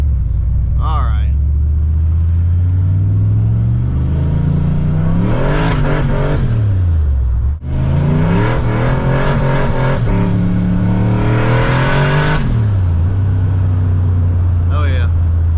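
A turbocharged Ford Mustang Foxbody on street tires accelerates hard through the gears, loud and close, its engine note climbing, dropping at shifts and climbing again, with a brief cut near the middle.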